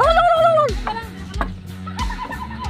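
A turkey gobbles nearby, a loud drawn-out call followed by rapid, rattling bursts of gobbling.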